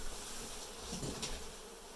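Honey bees buzz steadily throughout a hive cutout in Dorrance, Kansas, a dense, close, continuous drone with no talking.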